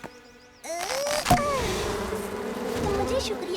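Cartoon bees buzzing near their hive, a bright, wavering drone that starts abruptly after a short quiet opening and keeps going with shifting pitch, alongside animated sound effects and some speech.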